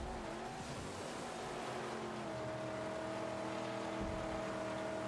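A racing car in a video game roars steadily at high revs with a sustained tire squeal, a dense continuous engine drone heard faintly with no talking over it.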